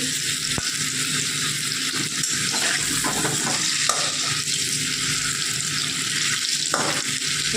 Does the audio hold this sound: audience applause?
no